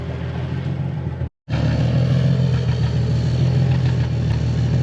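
A boosted Nissan 350Z runs on a popcorn map, its engine rumbling loud and close, with a short cut to silence before the dense crackling burble resumes.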